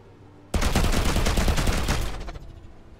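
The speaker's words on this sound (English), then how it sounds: "I'm just shooting everything that I see." Burst of rapid gunfire in the space ship RPG Between The Stars, a loud dense volley lasting about two seconds that starts abruptly and trails off quickly.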